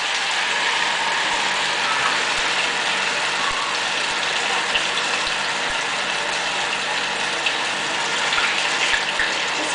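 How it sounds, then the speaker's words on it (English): Battered cauliflower fritter frying in a pan of hot oil, a steady dense crackle and sizzle with fine popping bursts throughout, close and continuous with no talking. "And then we're going to pop that into the hot oil."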